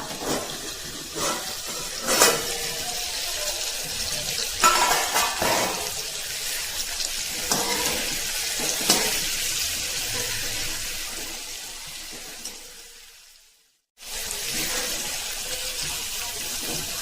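Capsicum bhaji stirred in a pan over a low flame: a continuous close hiss of cooking with periodic scraping strokes of a spoon, cutting out briefly near the end before the hiss resumes.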